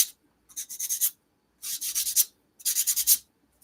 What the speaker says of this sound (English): It's just going to be me sanding.